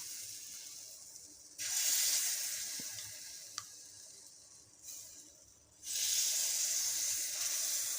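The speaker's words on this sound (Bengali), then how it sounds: "ভাজতে সময় লাগবে, কিন্তু অল্প সময়ের মধ্যে হয়ে যাবে।" Dudh chitoi pitha, a rice cake, frying in a pan, a close sizzling hiss that swells loudly, fades, and surges again as more batter goes in, with a few small clinks between.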